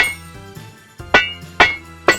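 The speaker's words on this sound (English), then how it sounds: "Use a hammer to level out the dents." A toy hammer tapping out dents on a toy trencher construction machine, with three sharp clinking strikes spaced about half a second apart over a faint background hum.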